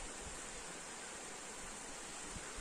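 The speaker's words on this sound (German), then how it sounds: "Wieder ein toller Wasserfall." A small waterfall on a hike near the Zillergrund reservoir, a steady, dense rush of falling water heard close and continuous with no voices.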